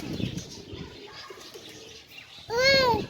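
Pigeons on a rooftop in Sialkot are heard: soft cooing and faint chirps sit under rooftop background noise, then a louder, clearer bird call rings out near the end.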